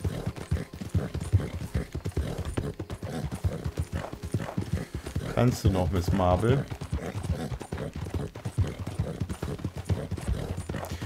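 Steady clip-clop of a horse's hooves in a Rockstar video game, a trotting rhythm that runs throughout, with a brief whinny midway while a person talks over it.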